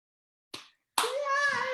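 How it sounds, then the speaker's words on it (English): A single sharp hand clap, close and dry, is followed after a short pause by a person's voice, in a home setting. "I don't know why I'm clapping myself."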